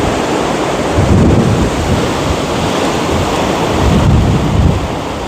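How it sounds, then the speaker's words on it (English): Strong wind buffets a handheld phone microphone outdoors, a loud continuous low roar with gusts swelling around the one- and four-second marks, with no other sound coming through. "what a lovely and windy day this happens to be"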